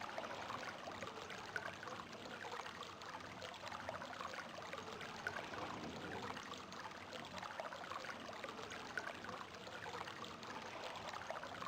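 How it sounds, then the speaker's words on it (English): Soft, continuous lapping of water waves in the realMyst Masterpiece Edition game, a faint, even wash and trickle with no voices. "It's the sound of the waves that was throwing me off."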